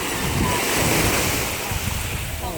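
Surf at Arena Maiori beach, a sandy and rocky shore, forms a loud, continuous wash of waves mixed with gusty wind noise on the microphone.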